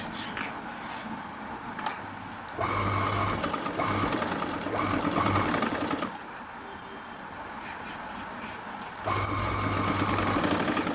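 A sewing machine hums and clatters close by as it sews a pocket onto palazzo pants, running in two sustained bursts of rapid, steady stitching separated by a pause with fabric handling.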